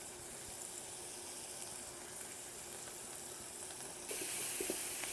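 Sausage and chopped vegetables saute in a pan with a faint, continuous hissing sizzle that swells slightly louder toward the end.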